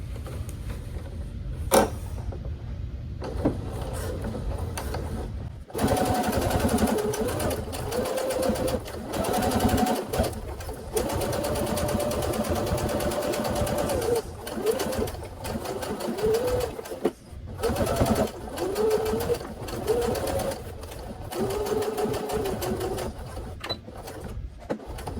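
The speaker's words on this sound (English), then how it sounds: "So get your sewing machine, and that way we close that opening" A sewing machine top stitching fabric at about 4 mm stitch length runs in steady bursts after a brief pause, its rapid needle clatter close and clear, stopping and restarting several times.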